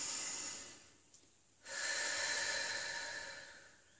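A deep breath drawn in during EFT tapping, a soft airy inhale that swells after a brief lull and holds steady for a couple of seconds, close and alone.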